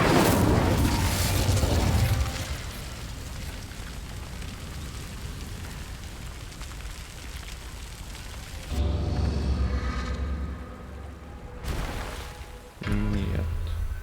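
Blasts of the Incendio fire spell in Hogwarts Legacy, a loud fiery burst at the start that fades into a crackling rumble, followed by more whooshing bursts of flame later on.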